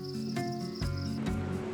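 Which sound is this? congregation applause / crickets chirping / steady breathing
crickets chirping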